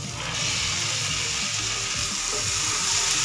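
Cut cluster beans tossed into a tomato mixture frying in a pan, giving a steady, close, loud sizzle with faint stirring and watery bubbling throughout, with no talking.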